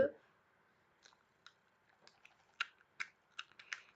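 Keys on a computer keyboard clack in a short run while a command is typed during a modded Minecraft session, starting sparse and quickening into several sharper, close taps near the end, quiet overall.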